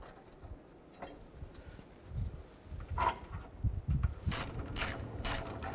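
Nuts being tightened on a catalytic converter of a 2008-2012 Ford Escape. Quiet handling noises lead into a short run of crisp, close mechanical clicks near the end, with no voices.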